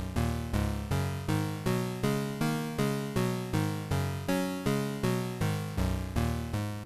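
Synth sequence layered with a copy of itself transposed down seven semitones, repeating as a steady run of plucky notes about twice a second, each with a sharp attack and quick decay, loud and clear with no voices.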